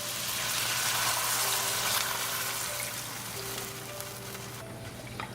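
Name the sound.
hot water poured into spiced shrimp rice pilaf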